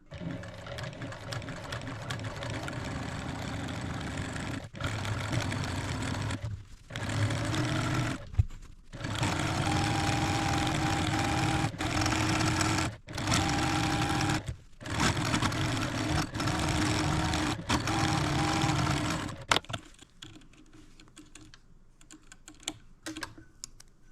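A home sewing machine fitted with a walking foot runs in long steady bursts of straight-line quilting, its rapid needle rattle broken by brief pauses, then fading to quiet handling near the end.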